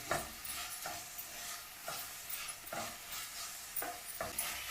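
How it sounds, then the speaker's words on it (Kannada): Ginger paste and salt are stirred through in a pan, and the spoon scrapes in a steady rhythm of soft strokes over a continuous gentle sizzle, close and fairly quiet, with no voices. "ಶುಂಠಿ ಪೇಸ್ಟು ಮತ್ತು ಉಪ್ಪು ಎಲ್ಲ ಕಡೆಗೂ ಮಿಕ್ಸ್ ಆಗಬೇಕದು ಆ ಥರ ಚೆನ್ನಾಗಿ ಕಲಿಸ್ಕೊಳ್ರಿ"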